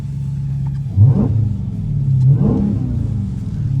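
A 717-horsepower 2022 Dodge Challenger Hellcat V8 barks through two sharp, loud revs over a deep rumbling idle, each blip rising quickly and falling back.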